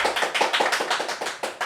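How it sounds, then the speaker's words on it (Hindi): Audience applause welcoming actor Sanjay Pandey on a talk show, a brief burst of close, rhythmic clapping with evenly spaced, punchy hand claps and no voices. "जोरदार तालियां"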